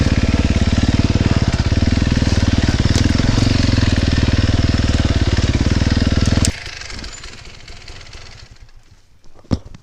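An enduro motorcycle rides hard terrain, its engine loud and close with a dense, steady roar for most of the stretch. It then drops off sharply to a quieter, rougher rumble with a few sharp knocks near the end.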